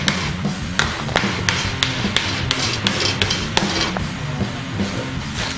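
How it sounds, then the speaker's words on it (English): A nail being hammered into the wooden layers of a handmade bee house, a steady series of sharp, fairly loud taps at a regular pace, close by and without talk. "when you're driving your nail, it goes into the center of whatever layer you're nailing"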